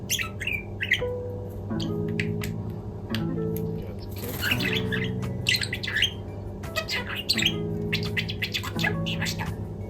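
A pet budgerigar chatters continuously for ten seconds, a close mix of squawks, chirps and mimicked speech-like warbles in quick irregular bursts, loud and busy throughout.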